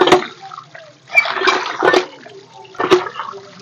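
Tap water running and splashing over raw chicken pieces being washed in a bowl, in close bursts of gushing and sloshing separated by brief pauses.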